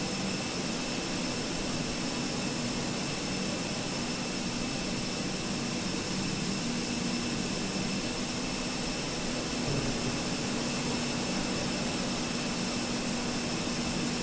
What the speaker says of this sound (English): And that whirring's coming from the jet